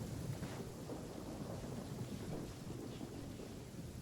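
Thunder rumbles low and steadily under continuous rain in the video game Genshin Impact, a soft, even wash of storm noise with no voices.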